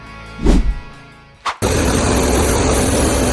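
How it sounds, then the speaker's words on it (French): A farm tractor engine, part of a harvest machinery fleet, sets up a loud, steady, broad roar after a couple of brief thumps, running continuously to the end with no talk. "le son de ce tracteur est plus qu'un simple bruit de moteur"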